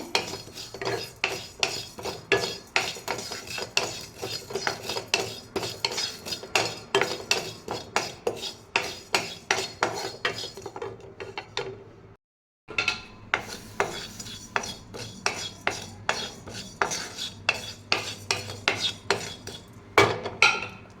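Cumin, fenugreek and fennel seeds dry roasting in a pan for chicken masala powder, with a steady rhythmic scraping and stirring against the metal that continues for the whole stretch apart from one brief pause.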